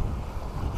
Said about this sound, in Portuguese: Tá ventando demais.